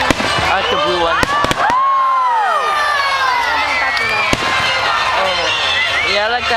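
Fourth of July fireworks going off nearby, with sharp bangs and crackles among whistling, while excited voices and shouting children carry loudly over the display.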